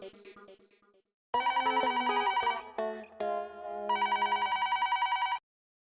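A telephone rings with a bright electronic ringtone, loud, repeating bursts that start after a short musical lead-in and stop abruptly, with no one talking.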